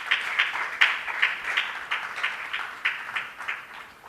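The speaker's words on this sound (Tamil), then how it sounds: "உங்கள் கைத்தட்டலுடன்." An audience applauds at a Tamil poetry reading event, a steady, moderately loud clapping that continues for the whole span with no voices over it.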